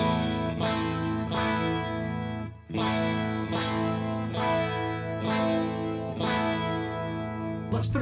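Electric guitar through an effects unit with chorus set to its most intense fourth setting, chords strummed in a slow steady rhythm, each ringing out thick and shimmering with a warbling, swirling tone, loud and close with no talking.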